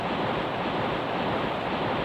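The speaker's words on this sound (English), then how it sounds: "There's always something behind a waterfall." A waterfall in the retro video game King's Field roars as a loud, dense, unbroken rush of water, steady and close throughout with nothing else audible.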